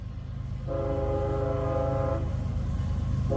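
Westbound freight train with a locomotive passing in Rittman, Ohio: a steady loud rumble of rolling cars with a sustained horn blast in the middle and another starting at the end.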